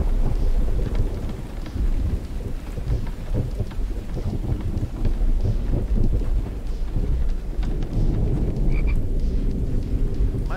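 Frog croaking in the survival game The Infected, a steady dense chorus of croaks layered over rain and rumbling thunder throughout, fairly loud and continuous with no talking.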